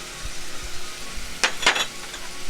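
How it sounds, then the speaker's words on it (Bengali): Spice masala for Bengali pooti fish gravy, with turmeric, chili powder and Kashmiri chili, sizzles in hot oil in a pan. The frying hiss is steady and close, with a couple of louder stirring scrapes partway through. "এখন কষতে হবে, মশলাটাকে ভালো করে কষতে হবে"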